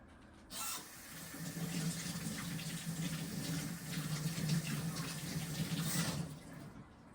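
Metal bolts rinsed under a running tap, a steady broadband rush of water starting after a brief pause and continuing without a break until it tapers off near the end.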